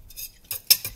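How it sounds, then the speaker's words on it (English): A spoon stirs a homemade sun punch mixture in a container, producing a few short, close scraping swishes and one sharper clink against the side, with no talking. "Just keep mixing."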